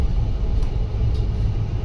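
Steady low rumble of a train decelerating as it nears a possible station, heard from on board, continuous and fairly loud with no distinct clatter standing out.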